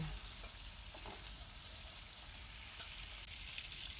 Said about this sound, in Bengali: বেগুন আলুর সাথে বেগুনটাকে খুব ভালোভাবে ভেজে নেব